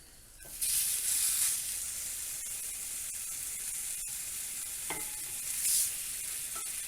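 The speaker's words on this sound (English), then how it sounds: "we're going to put our sausage in there. That's why we cut them open, so we can get a nice sear" Sausages cut open and searing in a hot pan, a loud, steady hiss that starts abruptly and holds throughout, with a few sharp pops and brief flare-ups near and clear.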